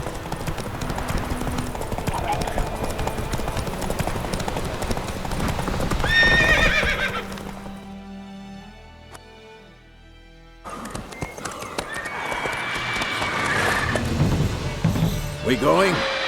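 Roach the horse galloping in The Witcher 3, rapid clip-clop hoofbeats with a neigh, fading into a quiet gap before the galloping resumes, with game voices over parts.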